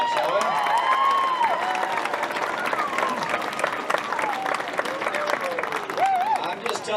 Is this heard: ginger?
no